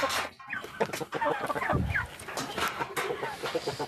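Leghorn and Sasso layer hens cluck and squawk close by in a busy backyard flock during egg collecting and feeding, with a person talking among them.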